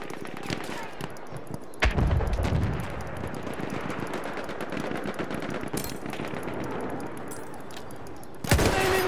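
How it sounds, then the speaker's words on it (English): Battlefield 1 machine gun fire in the Argonne Forest: dense, continuous bursts of automatic fire fill the scene, punctuated by loud nearby gunshot cracks near the start and end amid general battle noise. "Machine gun, watch it, boys."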